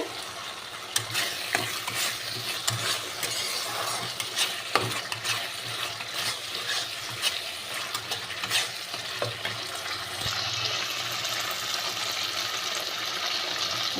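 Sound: spice paste being stir-fried in a pan

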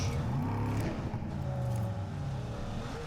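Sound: vehicle driving in the video game PUBG Mobile

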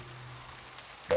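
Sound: rain dripping onto the floor, cartoon sound effect

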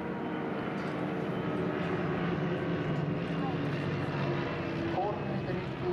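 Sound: propeller aircraft flying in formation at an airshow

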